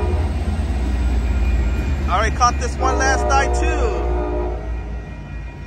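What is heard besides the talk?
Amtrak Capital Corridor train with F-59PHI locomotive passing, horn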